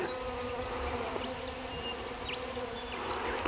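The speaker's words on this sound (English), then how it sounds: "Look at that bee." A bee carrying pollen buzzes steadily around flowering Acacia saligna on a sunny day, a soft continuous drone close by that rises and falls slightly, with no one talking.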